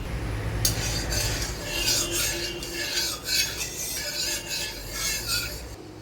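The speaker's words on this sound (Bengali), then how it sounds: "এগুলোকে খুব ভালো করে একটু মেখে নেব" Fish roe is mixed by hand with chopped onion, green chilli and gram flour, giving continuous wet squelching and rubbing sounds close up, with no voices.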